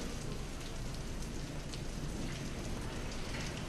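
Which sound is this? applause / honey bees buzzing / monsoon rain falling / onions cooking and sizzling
monsoon rain falling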